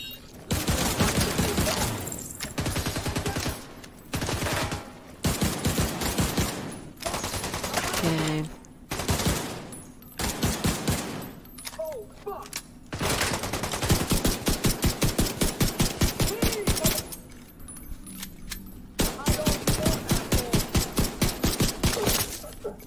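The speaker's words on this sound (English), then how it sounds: "Headshot with a pistol, no less." Pistol and automatic gunfire in the video game The Division 2, coming in repeated sharp bursts separated by short pauses, loud and close, with voices now and then between volleys.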